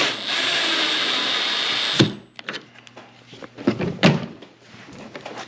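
A power drill whirs steadily as it drives screws into Blum drawer slides, then cuts off with a knock, followed by scattered clicks and light handling clatter of the drawer hardware.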